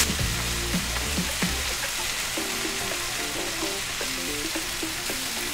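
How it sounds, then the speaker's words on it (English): Steady, loud sizzling and frying of creamy chicken pot pie filling in a pan, with a few stirring scrapes near the start, no voices. "When everything comes to a nice sizzle"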